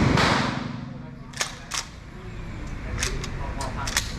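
Military guns fire a scattered series of sharp, fairly distant cracks, with about six shots spread across a few seconds over a steady outdoor background hum.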